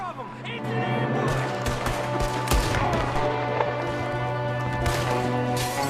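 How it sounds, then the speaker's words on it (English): Gunfire in the Western video game Red Dead Redemption 2, scattered sharp shots and clattering hoofbeats under a dense game soundtrack with voices talking throughout. "There's another one shooting from the window!"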